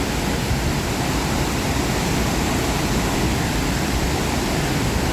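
Huai Suwat waterfall in a national park, a loud, unbroken roar of falling water that fills the whole stretch evenly with no pauses or voices.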